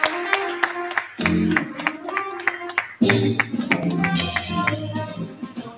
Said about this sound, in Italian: Un applauso a Maria Cristina.